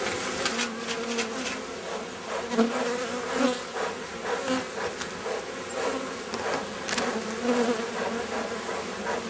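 Honey bees buzzing steadily and densely during the first hive inspection of 2012, a loud continuous hum close by with no voices.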